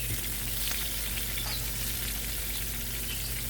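Garlic shrimp cook in a hot pan, giving off a steady, even sizzle with faint occasional crackles and no voices.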